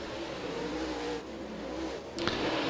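Late model race cars on a dirt oval during a last-chance showdown, engines droning at a distance down the backstretch with a steady mid-pitched roar that dips and rises as they pass, no talk over it.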